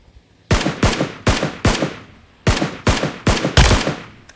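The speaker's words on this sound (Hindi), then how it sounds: "यहाँ पर पूरे 20-25 गोलियाँ बर्बाद करने के बाद सिर्फ एक गोली लगती है स्कारएलपी की" Scar LP rifle gunfire in a video game, loud close bursts of shots in irregular clusters with short pauses between, no talking.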